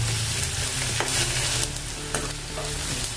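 Chopped onions sizzle in hot oil while being stirred for chana dal, a continuous bright frying hiss broken by scraping spoon strokes and clatters against the pan, close and alone without talk.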